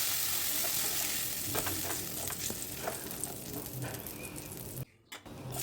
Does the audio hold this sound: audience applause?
no